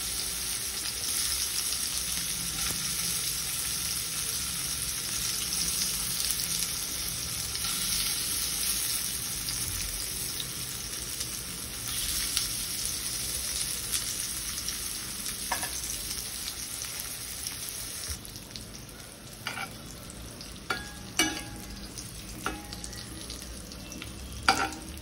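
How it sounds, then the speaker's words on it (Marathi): Methi tikki fry in oil until golden brown, with a continuous crackling sizzle that stays even throughout and a few sharp clicks and pops toward the end. "गोल्डन ब्राऊन होईपर्यंत या टिक्की फ्राय करून घ्यायच्या आहे."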